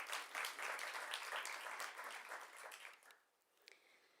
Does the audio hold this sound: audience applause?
yes